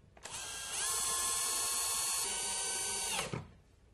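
A power drill drives the supplied screws to secure an electrical device into a wall box, giving one steady high whine of about three seconds, close and alone.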